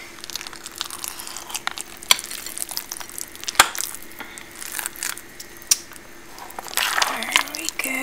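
Chopped semi-sweet chocolate chips folded into cannoli cup filling, soft scraping and squelching strokes with sharp clicks of a utensil against the bowl, close and quiet, with a voice talking over part of it.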